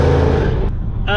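A 510 bhp Mercedes CLS55 AMG engine roars loudly up close from inside the car as it slides sideways, the deep drone cutting off briefly before surging again in this short burst.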